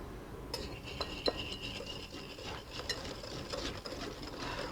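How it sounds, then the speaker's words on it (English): Sugar being whisked gently into egg yolks for vanilla crème brûlée: soft, quick metallic taps and scrapes of a whisk against a bowl, fairly faint and steady, with no talk. "to incorporate the sugar and egg yolk, but don't over whisk, just whisk gently, just to combine gently"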